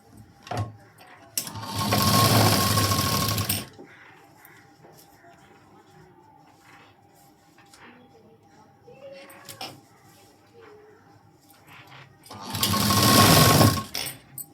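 A sewing machine stitching a lining strip onto a blouse cross strip, two loud close bursts of rapid stitching separated by a quiet stretch of handling and someone talking.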